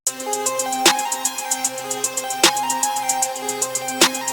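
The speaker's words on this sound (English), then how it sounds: "One's going to be a regular triplet hi-hat pattern." Rapid, evenly spaced hi-hat ticks in a rolling triplet feel over a melodic rage beat, with heavier hits punctuating it every second and a half.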